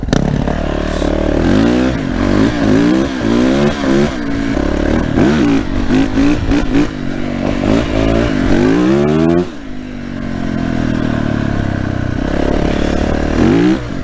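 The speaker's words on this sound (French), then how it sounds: "j'accélère sur du à peu près plat en ligne droite" A Yamaha YZF 450 motorcycle accelerating in a straight line on fairly flat ground, with the engine note climbing through repeated gear pulls, then easing to a lower steady drone and rising again, loud and close.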